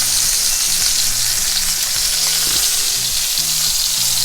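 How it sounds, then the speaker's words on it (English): Beef burger patties sizzle loudly in a hot pan, a dense, continuous close-up frying hiss with no talking. "We got them burgers burgering. Listen to that."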